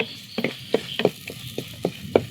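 Tomatoes and salt stirred into a pan of browned onions for a fish curry, a steady sizzle broken by a series of sharp scraping stirs at an uneven rhythm, close and moderately loud with no talking.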